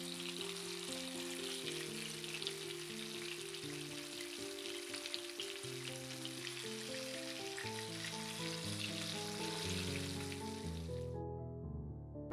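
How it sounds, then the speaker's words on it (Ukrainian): Steady crackling sizzle of crucian carp frying in hot oil in a pan, continuous and fairly loud, with music playing throughout until it cuts off near the end. "Смажу, як зазвичай, олійку на сковорідку, гарно розігріваю і обсмажую рибку з обох боків"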